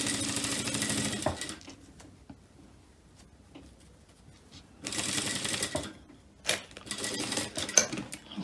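Sewing machine stitching an invisible zipper, running in two bursts of steady, fast mechanical whirring close by, with quiet handling sounds in the pauses between.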